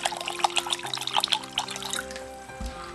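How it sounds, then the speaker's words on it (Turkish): Water is poured into a ginger lemonade mixture of sugar and mint, a steady close trickle with splashy bursts that continues for about two and a half seconds before tapering off. "Şimdi de su ilavesinde bulunuyorum."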